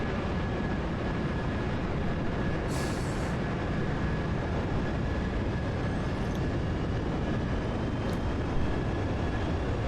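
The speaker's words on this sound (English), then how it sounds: "Alright, let's crank engine right." A jet engine spinning up in the DCS flight simulator, a dense, steady broadband roar with a thin high whine running through it, loud and unbroken throughout.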